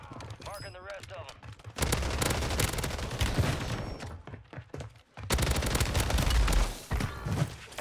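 Dual-wielded WSP Stinger submachine guns fire in rapid bursts in a first-person shooter, loud dense automatic rattles broken by short pauses, with voices and game callouts mixed in.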